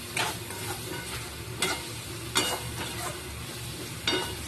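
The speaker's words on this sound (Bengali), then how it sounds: "আর এটা ভালো করে নেড়ে চেড়ে কষিয়ে নেবো, যতক্ষণ না চারিদিক দিয়ে তেল ছেড়ে আসছে" Spice paste frying in oil in a pan for a cabbage and prawn curry, stirred with a utensil, giving a steady close sizzle broken by a few sharper scraping strokes, with no voices.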